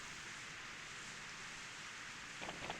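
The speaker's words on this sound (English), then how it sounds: "Toriel threw out Tenna and left him in the rain." Steady, even rain hiss in Deltarune fills the whole stretch at a soft, constant level, with a faint brief tonal flicker near the end.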